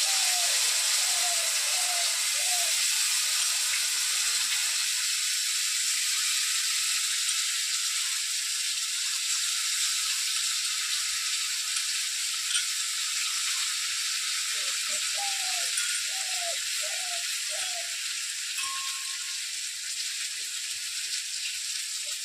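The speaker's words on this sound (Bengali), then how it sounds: "মশলা বাটিটা থেকে একটু জল দিয়ে দিচ্ছি, মশলার যাতে ভালো করে ভাজা হয়।" A paste of ground ginger, cumin, coriander and chilli fries with a splash of water in a village-style katla fish curry pan, giving a steady, bright sizzling hiss throughout with faint chirpy squeaks.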